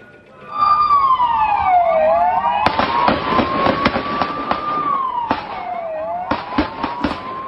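Several sharp, loud gunshots crack irregularly over a wailing siren that sweeps up and down, during an attack on a public bus in Israel.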